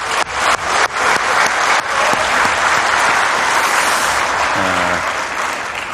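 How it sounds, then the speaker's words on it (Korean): A large crowd bursts into loud, sustained applause, a few sharp claps at first swelling into a dense steady roar of clapping. "우선 감사의 박수 한번 드리겠습니다."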